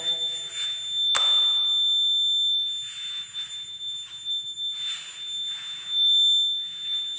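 Commercial building fire alarm sounding as a loud, piercing steady electronic tone with repeated pulsing bursts, filling the room and continuing throughout.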